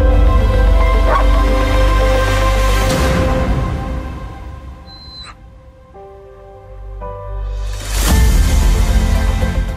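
A dog left behind by its owner barks and whimpers in sorrowful bursts. The sound is close and loud, with a quieter stretch in the middle before a strong burst near the end. No one speaks.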